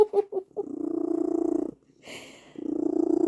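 Bonkers the cat purring loudly up close, a rhythmic rumbling purr that runs in long stretches with a short pause in the middle and a brief breathy sound before it resumes.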